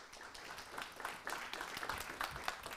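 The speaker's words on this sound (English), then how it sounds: "Can you give me a warm applause for Hans van Koningsbrugge?" Warm applause from an audience welcoming a Netherlands Russia Center director onto a talk stage, a steady patter of many hands clapping at moderate distance, fairly soft and continuous for a few seconds.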